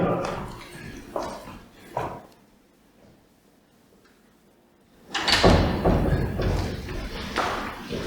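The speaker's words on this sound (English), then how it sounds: "Let me shut that door." An indoor door being shut, a few knocks and thuds early on, then a quiet stretch before a louder burst of sound, with people talking nearby.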